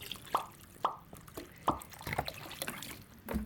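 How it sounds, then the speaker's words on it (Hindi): Water is poured into chicken gravy in a pan, making several distinct plops and splashes spaced irregularly over a low background, close and moderately loud. "तो पानी इसमें डाल रही हूँ मैं 2 गिलास पानी के"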